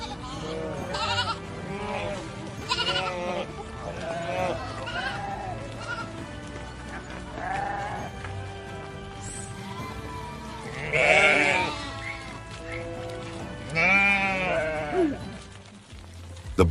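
Sheep bleat repeatedly inside a barn on a large modern sheep farm, several loud nearby calls overlapping with quieter ones, with a steady low hum of barn machinery underneath.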